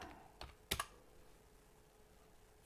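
A few quick keystrokes on a computer keyboard, a short cluster of sharp clicks followed by quiet, faint room noise.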